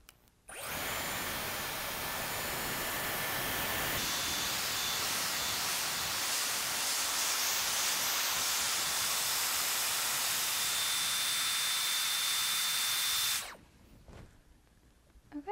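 A Dyson Airwrap hair styler with curling barrels blows a steady, close, loud airy hiss while curling naturally curly hair, switching on abruptly and cutting off after about thirteen seconds.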